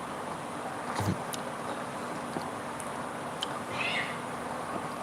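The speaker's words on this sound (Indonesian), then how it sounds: "Ini kucing" A cat meows faintly a couple of times, brief high cries rising above a steady hiss of background noise during a live stream, with no talk over it.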